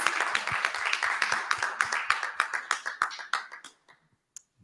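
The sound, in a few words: audience applause for award winner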